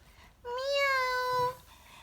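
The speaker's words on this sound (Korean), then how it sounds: "고양이도 사는 집인가 봐." A single drawn-out cat meow rises and holds for about a second, clear and close in a quiet, spooky witch's kitchen setting.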